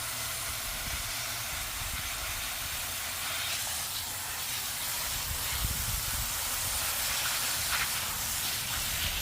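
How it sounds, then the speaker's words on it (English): A garden hose sprays water over potted plants in a steady, continuous hiss that stays even and fairly loud for the whole stretch, with no talking. "Let's get this all well watered."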